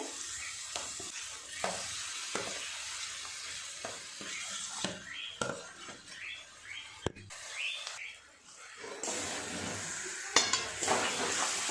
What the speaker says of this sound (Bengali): আলুর সাথে খুব ভালো করে সমস্ত মশলা এইভাবে কষিয়ে নেব